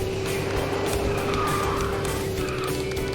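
A kart boosts through a KartRider race in a sustained, loud engine roar with a whining tone and tire-squeal texture, continuous and close throughout.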